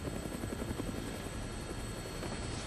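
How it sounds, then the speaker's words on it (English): A helicopter flies steadily in the video game Dead Rising, its rotor and engine drone loud and continuous throughout with no pauses. "Looks like taking a helicopter was the way to go."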